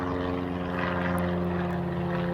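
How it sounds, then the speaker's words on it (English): Propeller airplane passing overhead outdoors, a steady droning engine hum with a constant low buzz, moderately faint and sustained throughout, with no talking. "There's like a plane going overhead, so don't mind that."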